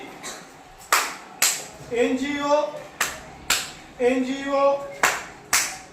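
Sharp hand claps land in steady pairs and singles among children singing the B-I-N-G-O song in a class five lesson, with the claps taking the place of spelled letters; bright, close and evenly spaced.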